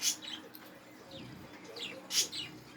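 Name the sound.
birds chirping outdoors in the morning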